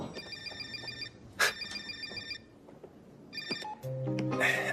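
Telephone ringing in a quiet room, with several short repeated electronic ring bursts separated by pauses, followed by faint background noise and what sounds like a phone being picked up.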